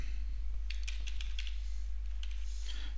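Code being typed on a computer keyboard, a close run of quick, uneven key clicks in short bursts over a steady low hum, with no voices.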